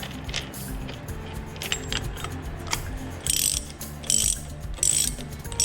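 A ratchet wrench tightens the front castle nut on a Dana 18 transfer case, giving close, steady runs of sharp pawl clicks with a few louder bursts toward the end.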